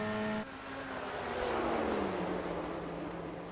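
Chevrolet race car engine in a GTE racing video game at Road Atlanta, a steady, fairly quiet drone with a shift change early on and broad noise swelling and fading as the car runs on.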